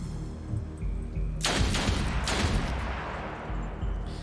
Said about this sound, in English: we should be able to get some shots off from here